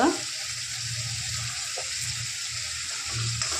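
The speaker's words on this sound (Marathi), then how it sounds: "आता हे व्यवस्थित मऊ होतोपर्यंत त्याला परतून घेऊ." Onions fry in a pan for chicken sukha, producing a continuous moderate sizzle with a few soft stirring clatters and a low background hum.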